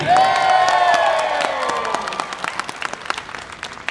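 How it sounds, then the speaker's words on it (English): A cosplay contest audience applauds and cheers as the contestants are introduced, with whoops and loud clapping over a fading musical sting, then a thinning spatter of individual claps. "please give a big round of applause for Adorable Cosplay, Forging S'mores, and last year's Best of Show, Sarah Kane."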